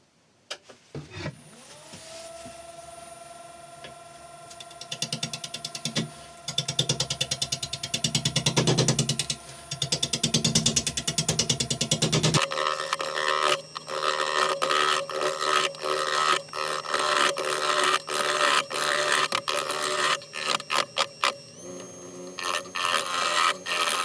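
A yew carving mallet spins on a wood lathe under carbide turning tools. A steady motor whine runs under loud, intermittent rasping and scraping cuts that grow busier and choppier partway through, with no speech.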